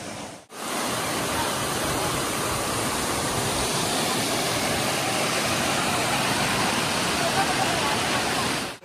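A waterfall on the Agathiyar hills trek, where people are bathing, gives a loud, steady, broadband roar that runs unbroken through the clip with no clear voices.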